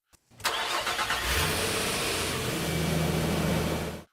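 A Nissan 4.0 liter VQ40DE V6 engine, as fitted to the Frontier and Xterra, starts and runs steadily with a loud, continuous mid-range drone close by, heard alone.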